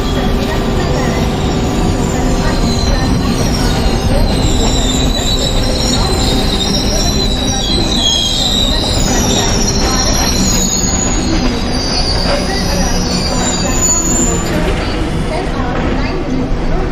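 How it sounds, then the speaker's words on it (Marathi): A 12-car fast Mumbai local train bound for Chhatrapati Shivaji Maharaj Terminus, simulated in MSTS Open Rails at Masjid station, arrives with loud, sustained wheel squeal over continuous rumbling rail noise, with station announcements audible beneath. "शिवाजी महाराज टर्मिनस जाने वाली 12 डिब्बों की तेज लोकल है."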